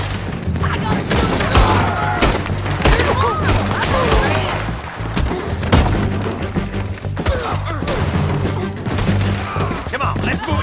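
Dense video game gunfire in a Wild West shootout, with rapid overlapping shots and thuds keeping up a loud, continuous barrage while voices shout over the action.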